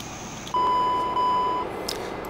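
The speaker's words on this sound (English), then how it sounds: "Whenever you do open the door, you will get that alarm." A Q400 airliner's open-door alarm in a flight simulator game sounds as a sustained electronic tone of about a second, over the steady hum of the cabin and running engines.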